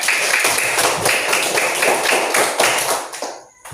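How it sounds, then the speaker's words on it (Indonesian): Children in a classroom clap together in a loud, steady rhythmic pattern, the repeated beats running for several seconds before stopping abruptly. "tepuk tangan juga"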